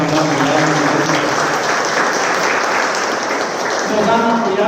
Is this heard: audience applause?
yes